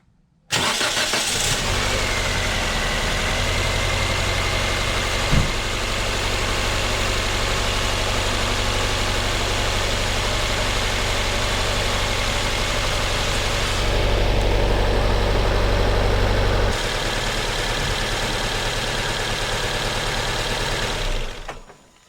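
A car engine cranks and catches, then settles into a loud, steady idle that runs for about twenty seconds with a slight shift in tone partway through, close by, with no talking, until it cuts off.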